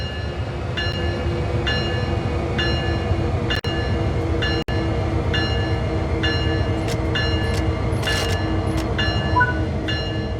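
A train locomotive in Train Sim World 3 powers up under light throttle, giving a steady low rumble and hum with a repeating tonal pattern and a couple of sharp clicks, continuous and close.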